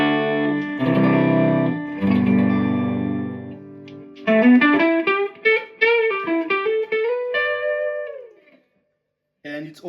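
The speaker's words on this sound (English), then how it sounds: "so you can hear, even for a clean channel, it begins to distort a bit" Guitar played through a boutique effects pedal on a clean channel with treble and gain turned fully up, giving a bright, slightly distorted tone; loud chords ring out, then a run of picked single notes, ending in brief silence.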